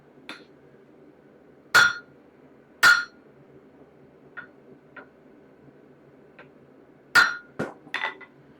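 A hammer rings against hot steel while an axe head is forged, sharp metallic strikes spaced irregularly, a few loud blows with lighter taps between, over a quiet workshop background.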